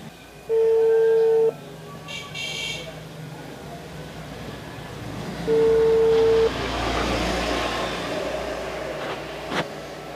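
A phone call is placed, with two steady electronic ringback tones a few seconds apart, each lasting about a second, over a low rumbling background and faint murmuring.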